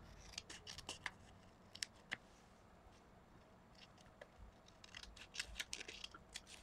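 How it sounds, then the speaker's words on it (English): Scissors trimming the edge of a pink and purple paper collage card, a quiet run of crisp, irregular snips and short slicing strokes, close by, with no talking. "Let me trim this one up just a little."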